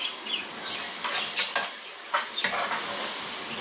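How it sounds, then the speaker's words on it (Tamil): Mint, coriander leaves and green chilies are sautéed in a pan for chicken dhonnai biryani, with a close, crackling sizzle broken by a few scraping stirs. "இதை நல்லா நம்ம வதக்கிக்கலாம்."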